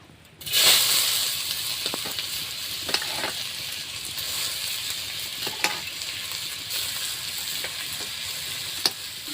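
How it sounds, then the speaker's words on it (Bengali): Grated beetroot and carrot drop into hot oil with a sudden loud sizzle that settles into steady frying hiss, broken by occasional stirring scrapes, close up and with no talk. "তেল গরম হয়ে গেছে বিট গাজর এখন ভেজে নেব"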